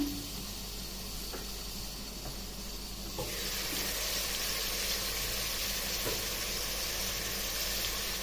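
Sweet potatoes boil in a pot on a stove, giving a steady, soft hiss and bubbling that grows louder and fuller partway through and then holds, with no voices.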